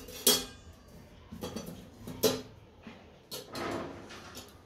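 Dishes and cutlery clinking and scraping close by while a meal is served, several distinct clatters spaced over a few seconds in a quiet room.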